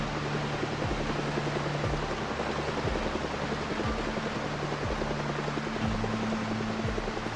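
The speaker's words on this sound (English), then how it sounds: "I still hear the helicopter." A distant helicopter in the game Project Zomboid drones steadily with a low rotor hum and broad noisy wash, faint and far off, holding level throughout with no talking.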